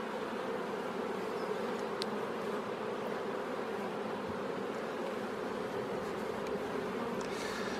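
Honeybees buzz at an open hive in spring. A dense, continuous hum of many insects holds close and steady throughout, with no voices over it.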